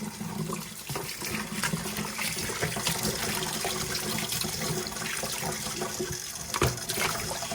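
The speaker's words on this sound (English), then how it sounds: "cold water, I'm just going to rinse it off" Steady cold tap water running over raw chicken as it is rinsed, splashing continuously, a broad hissing rush with small irregular spatters, fairly close and with no talking.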